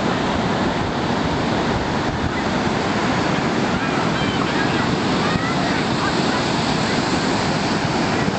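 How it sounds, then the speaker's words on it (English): Surf rolls in at Manly Beach under sunshine, a dense continuous roar of breaking waves mixed with heavy wind rumble on the microphone, loud and steady throughout. "We can have a look at the lovely sunshine and surf."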